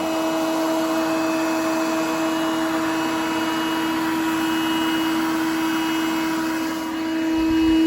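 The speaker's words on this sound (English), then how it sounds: "this thing is very loud on turbo mode" A Coral One robot vacuum runs loud and steady on turbo mode, a constant whining hum with no voices.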